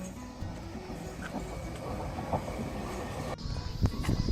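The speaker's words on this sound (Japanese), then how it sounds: "これはなんていう電車だろ" Train running through central Yamagata near Kajo Park, a steady rumbling rolling noise with a sharper clattering burst near the end, heard close outdoors with no talking.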